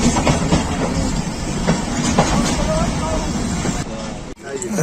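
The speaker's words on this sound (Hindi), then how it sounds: "अलीपुर से रवाना 48 डाउन रहमान बाबा एक्सप्रेस" Pakistan Railways Rehman Baba Express passenger train running at a steady clatter, wheels and carriage rumble continuous and loud throughout, with faint voices in the background before a brief dip near the end.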